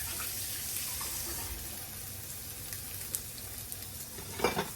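Rice browning in an already hot frying pan gives a steady, soft broadband sizzle that holds evenly throughout, with a few faint scrapes or clicks near the end.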